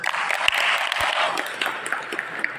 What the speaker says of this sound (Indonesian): Beri tepuk tangan dong buat mereka